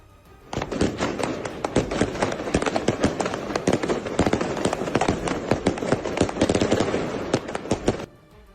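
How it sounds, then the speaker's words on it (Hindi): Firecrackers and fireworks set off in a street in Lebanon during a celebration, a loud, rapid string of sharp cracks and pops bursting for about seven seconds, close by and densely overlapping before stopping abruptly. "वहां कुछ लोगों ने पटाखे जलाकर खुशी मनाई।"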